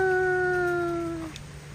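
A dog howls in one long sustained wail that slowly falls and fades out, close and clear, with no other sounds around it.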